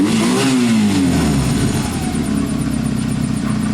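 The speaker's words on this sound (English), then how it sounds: "I'd normally nearly hit the camera and give the bike a bit of a rev." A Honda CB250 motorcycle engine revs up on a test ride, a loud, close roar rising then settling into a steady throaty idle.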